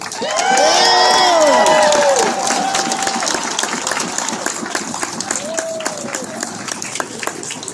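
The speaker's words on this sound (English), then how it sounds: "join me in a marquee round of applause for Tad Loving, our chairman" A theater audience bursts into loud applause and cheering at the State Theatre grand illumination in Culpeper, Virginia, with whoops and shouts at first, then the clapping carries on as a steady crowd ovation.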